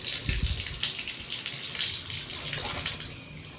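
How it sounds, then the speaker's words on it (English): Hotel shower water running steadily from the faucet in a rundown Atlanta hotel bathroom, a continuous close hiss with a brief splashing thump near the start, no voices. "Okay, so I just got done with my shower"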